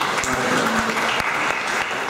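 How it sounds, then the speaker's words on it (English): Audience applause at an academic forum on trade, poverty and income distribution in Indonesia, a steady dense round of clapping filling the whole stretch with a few sharper individual claps standing out. "Please give another applause to"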